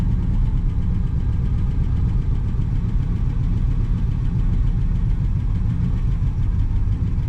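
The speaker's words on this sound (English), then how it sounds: "That idle's just set so low." A 1966 Pontiac Grand Prix barn find idles with its idle set very low, a loud, close, rumbling and slightly lumpy engine note holding steady throughout.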